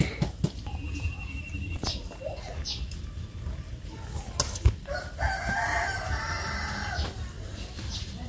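Several chickens clucking and a rooster crowing nearby outdoors, with repeated crows standing out over a busy background of scuffling and patter.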